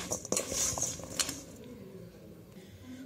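Mango pieces are stirred with turmeric masala in a metal bowl, giving quiet clinks and scrapes of a spoon against the bowl, then soft, wet mixing sounds.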